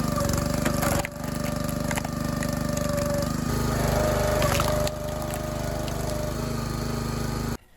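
Small firewood rounds being split in half, with woody cracks over a loud, steady engine-like drone that runs throughout and dips briefly near the start.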